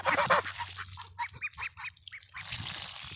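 A goose being hosed down for a bath gives a quick run of about eight nasal honks, fairly close, with splashing water noise before and after.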